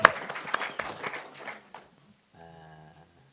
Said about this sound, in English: Warm round of applause for both of our guests.